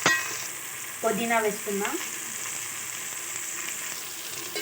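Tomatoes and ginger paste sizzle steadily in a pan for chicken biryani, a continuous bright frying hiss with a short spoken remark near the start.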